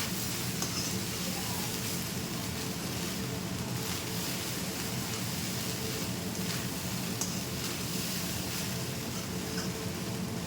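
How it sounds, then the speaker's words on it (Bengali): Garam masala being stirred through veg fried rice in a hot pan, a steady sizzling and scraping hiss that runs evenly and fairly loud throughout with no pauses. "এই গরম মশলাটি দেওয়ার পর আবারও খুব ভালো করে এই রাইসের সাথে মিশিয়ে নেব।"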